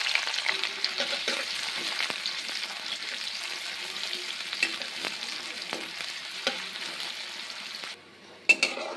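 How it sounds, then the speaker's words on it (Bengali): Chopped onions fry in hot oil in a kadai for crispy beresta, a loud steady sizzle with scattered clinks of a spatula against the pan, briefly quieting near the end. "এবার এর মধ্যে আমি দিয়ে দিব কুচি করে রাখা পেঁয়াজ।"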